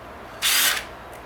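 A power drill drives a screw into a wooden layered Christmas tree yard decoration, one short loud whir of under half a second, close by, with no talk.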